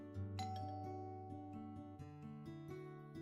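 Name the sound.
doorbell ringing in video game Love Curse: Find Your Soulmate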